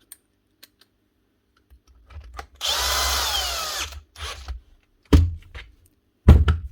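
A power driver runs screws through plastic into the metal housing of a Makita DTW1002 half-inch impact wrench under repair, with one long close whirring burst, then short sharp bursts and clicks.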